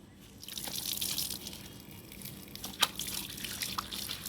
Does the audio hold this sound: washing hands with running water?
yes